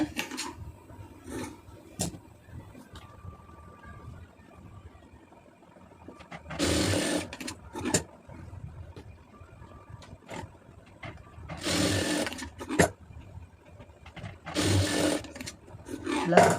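Sewing machine stitching a blouse, with short bursts of running motor and needle clatter separated by quieter gaps; faint handling noise and a little talk in between.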